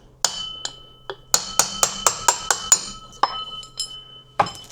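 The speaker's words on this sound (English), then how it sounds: "we will take a little bit bigger hammer and this tool again, and hammer in the bearing" A hammer drives a bearing into the front wheel of a Xiaomi M365 Pro scooter through a metal tool, giving sharp ringing metallic strikes, a fast run of about eight evenly spaced blows, then a few more spaced hits, close and clear.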